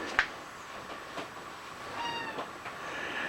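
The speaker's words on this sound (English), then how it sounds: "as you can tell, we've got a whiner kitty" A cat whines with a few short, thin meows spread over a few seconds, faint and somewhat distant against quiet workshop room tone.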